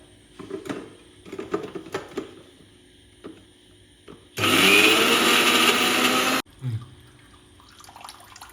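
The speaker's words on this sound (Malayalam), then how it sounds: "അടുത്തത് ക്യാരറ്റ് നമുക്ക് അടിച്ചെടുക്കാം" A blender whirs loudly for about two seconds while blending carrots into juice without added water, with quieter kitchen clatter before and after.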